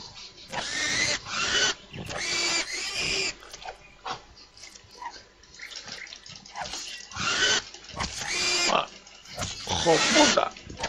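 Pig squeals in the PC game Mortal Online, several loud, harsh bursts spaced irregularly across the stretch, mixed with splashy noise.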